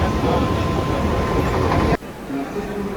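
A Mumbai local train runs in a steady, loud rumble with rail noise, then drops off sharply near the end as a quieter interior sound takes over, with faint voices in the carriage.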